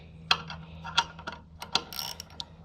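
A ratchet tightens a valve spring compressor on a C5 Corvette engine, giving a few sharp metallic clicks and ticks spaced irregularly, close and fairly quiet, with no talk.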